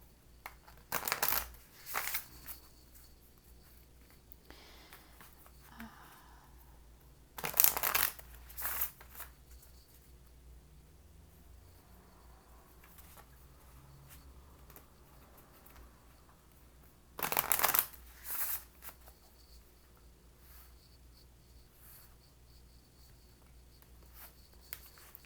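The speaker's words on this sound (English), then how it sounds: "Thank you for your patience as I shuffle." Tarot and animal oracle cards being shuffled by hand in a quiet room, heard as a few short, crisp bursts of riffling and sliding cards separated by long near-silent pauses.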